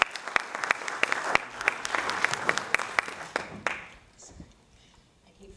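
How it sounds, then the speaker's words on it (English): An audience at a Caribbean tourism media event applauds the sponsors, a dense burst of clapping with sharp individual claps that swells for a few seconds and then dies away into quiet room noise. "A round of applause for our sponsors."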